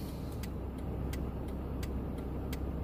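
A car engine strains to run, giving a steady muffled rumble punctuated by sharp, evenly spaced ticking pulses about three times a second, with no one talking.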